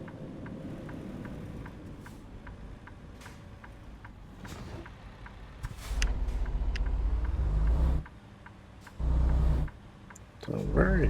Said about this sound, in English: It's a very quiet truck.